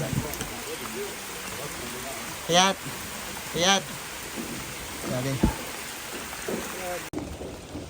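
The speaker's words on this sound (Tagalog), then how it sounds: "Bilis, malakas yung ulan." Heavy rain pours steadily throughout while kayaking in Coron, Palawan, a dense hiss, while people call out short words over it.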